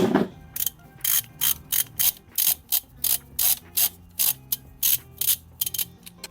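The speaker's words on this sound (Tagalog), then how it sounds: "Saka natin gamitan ng socket wrench." A socket wrench ratchets on the oil drain plug of a Yamaha X-MAX 300 V2 scooter during a first oil change, giving about a dozen quick, evenly spaced bursts of clicking, close and clear with no talk.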